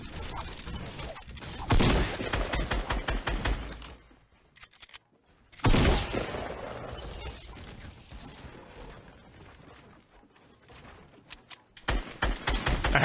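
Rapid gunfire rattles through a battle royale shooter match in dense, crackling bursts mixed with mechanical clacks and impact crashes. Two heavy volleys are split by short lulls, and the shots sound close and loud with no voices.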